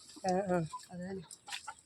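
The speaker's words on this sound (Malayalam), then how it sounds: "ഇതേതാ കോഴികൾ? ഇത് കൊളംബിയൻ ബ്രഹ്മ." Colombian Brahma cross chickens cluck close by in a few short bursts, with a brief softer call at the end.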